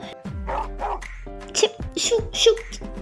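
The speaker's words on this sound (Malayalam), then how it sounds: "കൊരക്കല്ലേ പട്ടി, കൊരക്കല്ലേ" A dog gives several short barks and yips, close and fairly loud, mixed with voices talking over it.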